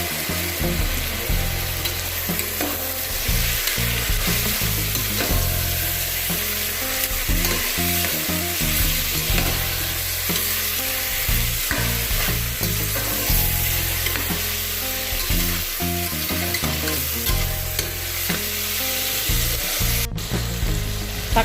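Tomatoes sautéing in a pan after onions for a Tamil green-gram variety rice, loud continuous frying sizzle with frequent scraping stirs of a spatula against the pan, close up and without speech.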